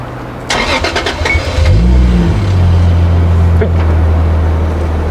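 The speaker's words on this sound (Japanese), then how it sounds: "エンジンかけちゃうね。" A Toyota Chaser JZX100 Tourer V engine cranks and starts after a brief whir of the starter, then settles into a loud, steady, low idle hum close by.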